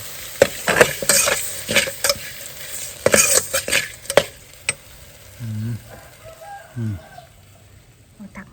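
Stink bugs being stir-roasted in a pan give off a series of sharp scraping and rattling stirs over a faint sizzle, with a voice speaking briefly in the middle and a rooster crowing in the background.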